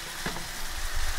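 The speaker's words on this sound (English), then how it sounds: "I'm going to put this on simmer" Food in a pan on low heat gives off a steady, even sizzling hiss, close and continuous through a short stretch with no voices.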